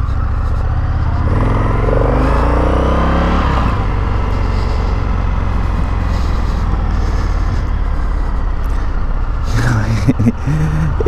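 An Indian FTR1200 motorcycle being ridden on the road, its engine droning loud and close with a pitch that rises and falls as it revs, steady wind and road roar underneath throughout.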